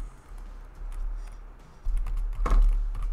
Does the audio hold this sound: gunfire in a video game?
no